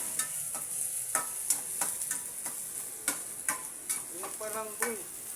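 Fish sisig sizzles and fries steadily in a pan as it browns, with scattered clinks and scrapes of stirring over a constant crackling hiss.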